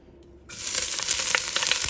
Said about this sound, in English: We'll put my onions in there first.